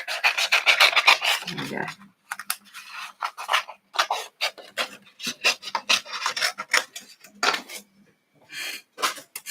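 Cardstock being cut or scored by hand makes repeated rasping strokes in short bursts separated by pauses, close and fairly loud. A person speaks briefly.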